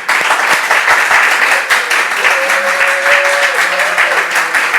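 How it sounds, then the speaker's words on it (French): A studio audience applauding steadily on a Beninese television show, a dense wash of clapping that stays loud throughout, with a faint tone rising briefly in the background. "Ils peuvent s'applaudir."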